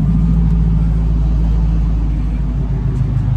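A Lexus LS400 car engine idling, a loud, close, steady low rumble that holds even throughout with no revving.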